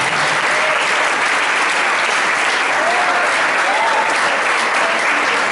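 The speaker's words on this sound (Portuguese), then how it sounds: "Aplauda o Senhor Jesus." A church congregation applauds steadily and loudly throughout, a dense wash of clapping with a few faint voices rising briefly underneath.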